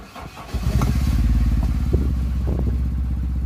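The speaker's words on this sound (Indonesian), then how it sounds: "Kita coba langsung starter." Chevrolet Blazer with a DOHC engine cranks and catches after a half-second of starter churn, then settles into a steady, loud, close idle with a low even rumble and faint clatter.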